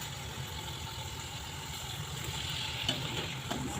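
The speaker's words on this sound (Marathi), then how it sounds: "हे बघा आता सुरण पण झालं आपलं तळून." Pieces of elephant foot yam (suran) fry in oil for undhiyu, making a soft, even, continuous sizzle with a faint clink near the end. No speech.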